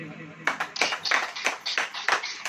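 A church congregation claps in rhythm, a series of sharp, fairly loud claps in quick uneven succession over a couple of seconds, with speech mixed in.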